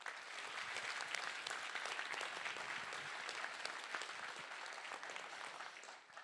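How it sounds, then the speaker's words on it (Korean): Audience at a formal Korean government meeting and corporate work-life balance awards event gives a sustained round of applause, a dense even wash of clapping from a large crowd, fairly distant and quiet, tapering slightly at the end. "여러분 큰 박수로 함께 시작하겠습니다."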